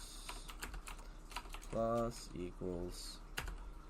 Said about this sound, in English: Typing is not my thing today.